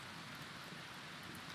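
Steady rain falls in the video game RimWorld, a soft, even hiss of rain with no distinct drops or pauses, quiet and constant throughout.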